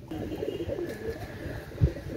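Pakistani Sialkoti pigeons coo in low, murmuring calls over a steady background hum, with one brief, louder coo near the end.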